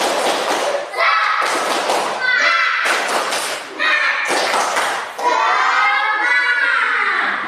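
Children in an Indonesian classroom do a spirited rhythmic clapping chant, loud bursts of claps mixed with their voices in a quick repeating pattern, with an adult voice leading.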